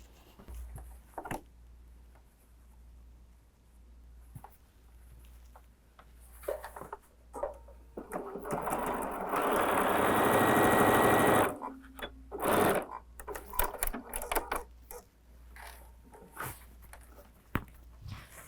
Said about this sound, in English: I'm just gonna top stitch really, really close to the edge of that fold there